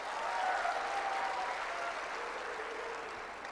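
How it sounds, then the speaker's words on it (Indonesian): Steady applause from an audience at an Islamic study gathering, a broad even wash of clapping that swells slightly early and then holds at a moderate level for the whole stretch, with no talk over it. "Berikan tepuk tangan semuanya."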